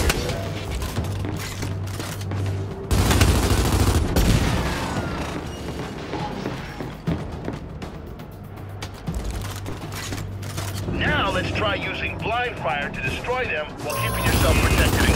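Gunfire in the third-person shooter Gears 5 during a boot camp tutorial, scattered rattling bursts mixed with mechanical clanks. Voices talk over it throughout.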